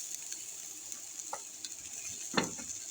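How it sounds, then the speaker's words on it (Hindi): Chopped garlic dropped into hot oil for a prawns and fenugreek dish, a steady hiss of frying with a few scraping stirs, one louder clatter near the end, close and alone. "ये जो लहसुन काट के रखा है ये डालेंगे तेल में।"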